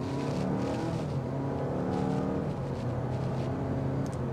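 A 2025 Honda Civic Hybrid accelerates on a test drive, heard from inside the cabin as a steady, muffled engine drone with road rumble, continuous and moderately loud.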